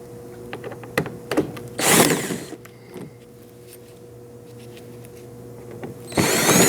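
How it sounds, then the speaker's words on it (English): T25 screws are run out of the fender liner of a 2009-2017 Audi Q5 with a powered driver on an extension, giving two loud whirring bursts separated by quieter clicks and handling noises. "We also have T25 screws that are holding down this fender liner as well. I will be using an extension to get them out."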